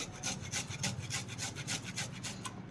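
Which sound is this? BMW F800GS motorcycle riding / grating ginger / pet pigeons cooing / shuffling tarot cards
grating ginger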